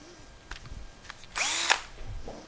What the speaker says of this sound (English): And put it in a hand drill.